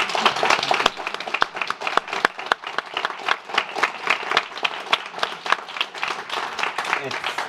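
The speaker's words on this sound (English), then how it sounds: "please a big round of applause to this incredible panel" An audience applauds a panel at a music-and-brain-healing event, a dense burst of many hands clapping close by, holding steady for several seconds with scattered louder claps and no talk over it.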